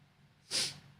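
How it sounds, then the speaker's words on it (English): A single short, sharp sneeze bursts out close to the microphone, an abrupt nasal blast about a quarter second long against a quiet room. "I'm going to sneeze."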